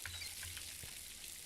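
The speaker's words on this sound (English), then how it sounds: "I do love these sprinklers." Water sprinklers spray continuously in the farming game Schedule 1, a steady hissing wash that holds evenly through the short moment with no voices over it.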